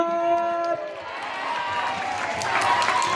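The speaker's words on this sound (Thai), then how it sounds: "เดี๋ยวขอเสียงปรบมือต้อนรับนะครับผม" A concert crowd at a mini-concert stage event breaks into dense applause and cheering that swells into a steady roar, following a few tonal guitar-like notes at the start.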